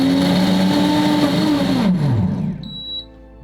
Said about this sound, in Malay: Kita blend. Saya pakai mode ais tadi.